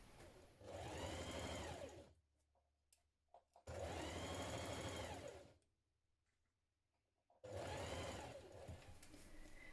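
Sewing machine stitching the shoulder seams of a blouse in three steady bursts of rapid whirring, separated by short quiet pauses with light handling clicks.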